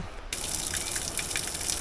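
A waterfall on a steep mountain trek up the rock at Shivadhara, with cold wind in the air, roars in a steady, dense rush that starts abruptly and continues without a break.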